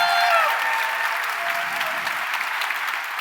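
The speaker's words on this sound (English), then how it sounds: "Please applaud Marina." Conference audience at a JavaScript tech event applauding, a dense burst of clapping that starts loud and holds steady for a few seconds before gently easing off, heard alone without speech.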